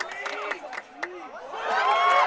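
Spectators at a lacrosse game break into a burst of shouting and jeering, a loud swelling crowd roar that builds toward the end, with a commentator talking over the start.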